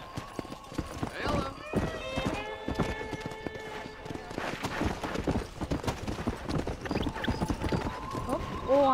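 Horses in the Red Dead Redemption video game gallop with rapid clip-clop hoofbeats and whinny, layered with game music and ambient noise throughout.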